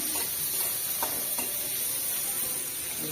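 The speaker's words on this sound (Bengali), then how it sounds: "একটু ভাজা হোক।" Curry frying in a pan with turmeric in a village kitchen, a soft continuous sizzle and hiss with a few faint stirring scrapes, quiet and close.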